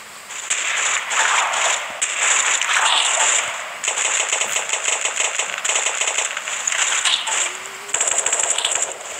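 Gunfire in the shooter game Special Forces Group 2 rattles in loud, rapid bursts of close shots with only brief pauses between volleys, and no voices.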